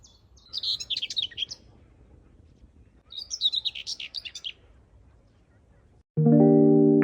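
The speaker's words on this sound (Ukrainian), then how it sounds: "Так гарно пташечки ввечері співають." Two bursts of bright, rapid evening bird chirping and twittering, each lasting a second or two, with quiet gaps between, then a sudden loud electronic tone at the end.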